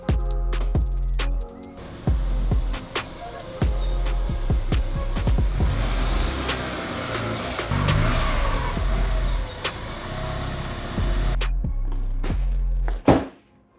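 Porsche 944 S2 with an induction modification and a new mass airflow sensor revs repeatedly, with sharp blips and longer sustained pulls, loud and close, ending in a final rev and a thunk.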